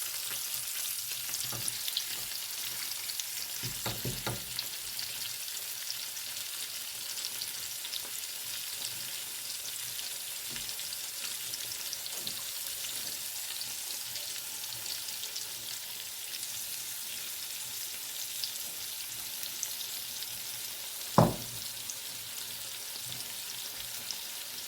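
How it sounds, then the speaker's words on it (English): Sirloin steaks fry in a hot pan with a steady, bright sizzle throughout, broken by a few soft clinks and a sharp knock near the end; no talking. "And then try and put our steaks in the pan."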